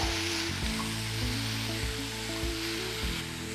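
Pumpkin and other vegetables sautéing in a pan for soup, giving a continuous close sizzle with low rhythmic scraping and stirring thumps repeating every half second or so, no speech.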